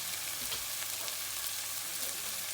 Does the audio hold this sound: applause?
no